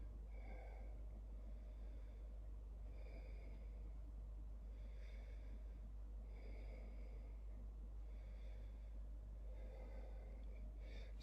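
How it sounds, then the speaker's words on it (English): Slow, regular diaphragm breathing during a breathing exercise, with about five or six soft breaths spaced evenly and heard close over a constant low electrical hum, no talking. "And then diaphragm breathing."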